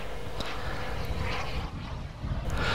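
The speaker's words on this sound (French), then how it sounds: "motorisés par les réacteurs AMT Pegasus qui développent plus de 10 kg de poussée" At an IMAA Europe 1999 air meeting at La Ferté-Alais, a model jet aircraft powered by AMT Pegasus turbine engines flies past with a loud, continuous turbine roar and whine that dips briefly, then swells again.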